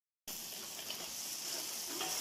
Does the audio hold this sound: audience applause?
no